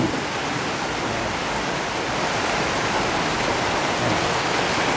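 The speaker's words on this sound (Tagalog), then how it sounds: "Lakas ng ulan." Heavy rain pours down steadily in a dense, constant roar with no pauses, loud and close.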